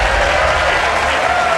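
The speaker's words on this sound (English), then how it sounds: "don't be afraid to clap or cheer" Dense, loud applause from an audience fills a celebration event for the OSIRIS-REx asteroid sample reveal, a steady wash of clapping with no pauses.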